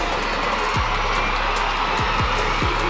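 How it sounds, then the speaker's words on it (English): A volleyball arena crowd in a PVL semifinal match between Cignal and Creamline roars continuously and loudly in a dense wash of cheering, with a few low thuds underneath. "the crowd is erupting because their super sub is now inside the game"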